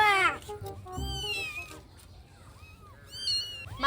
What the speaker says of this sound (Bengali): মাহি, তুই আমাকে বিড়াল দিবি?